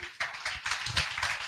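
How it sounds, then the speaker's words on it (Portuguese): A church congregation at a family worship service gives a brief burst of quiet, scattered hand clapping that stays fairly soft throughout. "Dê um aplauso a Jesus."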